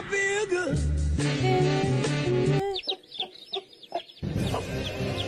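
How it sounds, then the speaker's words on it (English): A chicken clucks and squawks in a series of close, loud, uneven calls, with a short quieter gap of choppy sounds in the middle before the noisy clucking resumes. "I just want to pet a chicken."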